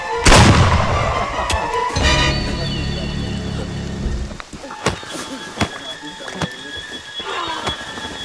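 Gunshots in the Friday the 13th video game: a loud booming shot, then another, followed by scattered sharp cracks and thuds over game ambience, with talk mixed in.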